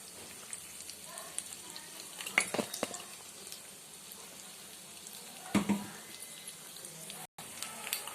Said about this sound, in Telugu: మన పోపు వేగుతుంది చూద్దాం